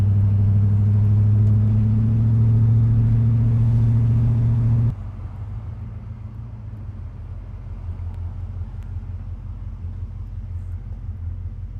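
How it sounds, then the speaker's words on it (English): A V8 Holden four-wheel-drive ute with 185,000 km on it idles steadily with a deep, even rumble, then the note drops to a quieter, lower hum as it settles, heard close and without talk. "Four-wheel drive, it's a Ute."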